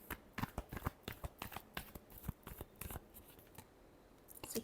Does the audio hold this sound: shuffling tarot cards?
yes